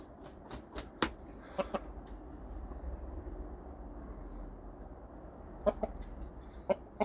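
A rooster clucks in short, scattered bursts over steady low background noise, a few calls close by and others softer.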